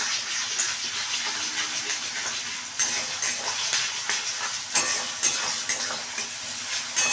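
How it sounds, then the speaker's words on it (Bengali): Chichinga and potatoes with a spice paste are stirred in a pan, a soft continuous sizzle broken by repeated scraping strokes of a spoon, close and moderately loud. "দিয়ে আবারও এটাকে আমি ভালো করে নাড়াচাড়া করে নিচ্ছি"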